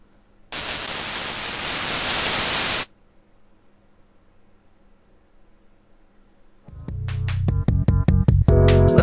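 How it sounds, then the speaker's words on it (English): A burst of loud synthesizer white noise hisses for about two seconds and cuts off, followed later by rhythmic synth notes. "The noise generator simply generates white noise, similar to what you hear off your TV."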